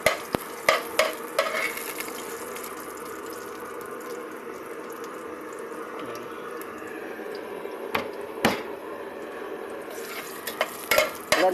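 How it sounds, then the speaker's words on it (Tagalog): Garlic sautéing in a pot for a home-cooked Filipino ginisa dish, a steady close sizzle with a spatula stirring and scraping in sharp bursts near the start and end, no voices. "kailangan natin igisa yung bawang"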